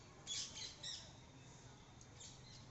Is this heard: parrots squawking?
yes